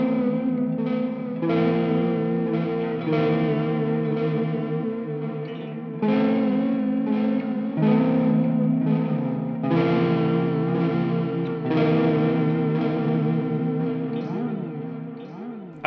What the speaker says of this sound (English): I know at least one of you wants to hear the effects through a clean channel